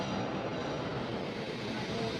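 A passenger train leaving Vijayawada station at dusk, a faint, even rumble of rolling wheels and carriage noise, steady throughout without clear beats or voices.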